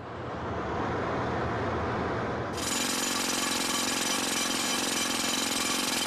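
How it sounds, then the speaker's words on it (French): Jackhammers pound at construction work at the Hajj holy sites of Arafat, Muzdalifah and Mina, a loud continuous rattling drone that jumps sharply in intensity partway through, with no voices. "le murmure des prières a été remplacé par le bruit des marteaux-piqueurs"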